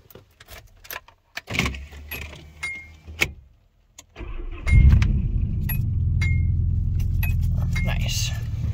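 A turbocharged Nissan Maxima engine with a new header cranks and fires up after some handling noises, then settles into a loud, steady idle rumble close by.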